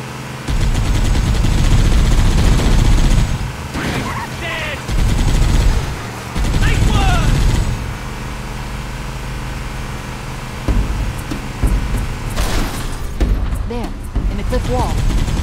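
Covering gunfire in the shooter game Halo CE comes in repeated loud bursts of automatic fire, with engine noise and short pauses between them, and voices shouting in between.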